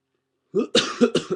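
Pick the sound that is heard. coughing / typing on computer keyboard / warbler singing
coughing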